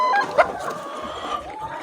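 A laying hen clucks close by in a series of short, rising calls, with a few softer clucks trailing off over the brief stretch.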